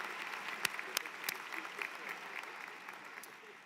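Applause from an audience at an online undergraduate business and STEM programs ceremony, moderately distant and steady, with a few sharper individual claps standing out.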